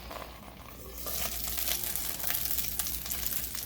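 Soft, steady sizzling and crackling of bacon cooking in a Tupperware MicroPro microwave grill, faint and continuous, with tiny pops scattered throughout.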